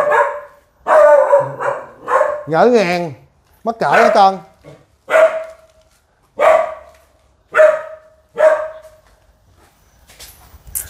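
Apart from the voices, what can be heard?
two dogs barking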